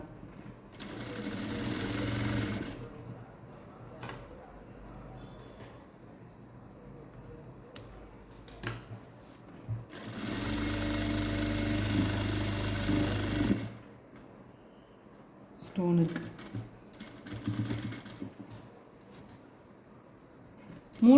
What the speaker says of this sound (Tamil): இப்போது நம்ம வெளிப்பக்கமாக மூணு தையல் ஸ்டிச் பண்ணிக்கோங்க